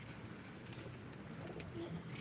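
Live pigeons coo softly at a pigeon auction, with a couple of low, brief coos rising faintly from quiet background noise.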